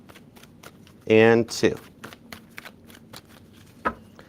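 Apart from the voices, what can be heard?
tarot cards being shuffled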